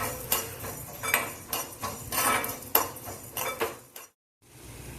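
Coriander seeds are tipped into a dry pan for roasting, making a run of scattered ticks and rattling clinks against the metal before the sound stops abruptly.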